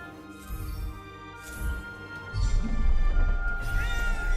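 Cat in the video game Forspoken meowing a few times over a soft, sustained musical tone, the calls growing louder and closer toward the end.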